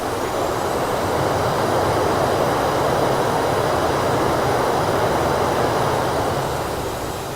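Aircraft jet engine in Microsoft Flight Simulator, a Virgin Australia airliner, spooling down from 80% thrust as a steady, loud broadband roar with a faint high whine, holding level and easing slightly at the end.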